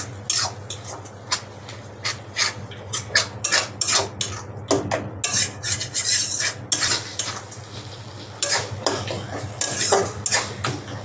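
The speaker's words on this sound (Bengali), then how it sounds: "পিটুলিটা দিয়েই কিন্তু নেড়ে দিতে হবে" A utensil stirs spinach and rice paste in a pot, making repeated close scraping and clanking strokes in an uneven rhythm over a faint, steady background hiss.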